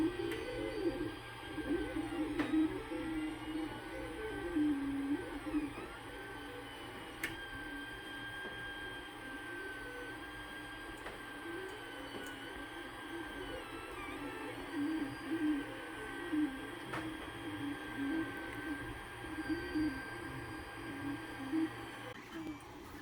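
A 3D printer lays down the first layer of a phone holder, giving a steady whirring hum with shifting stepper-motor tones and faint ticks, constant and fairly quiet for the whole stretch.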